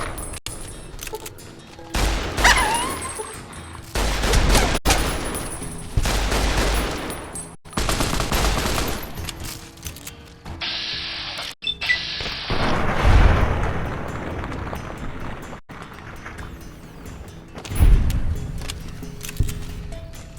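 Gunfire in Fallout: New Vegas, several loud bursts of shots and booming impacts scattered across the stretch, with sharp cracks separated by brief quieter gaps and no speech.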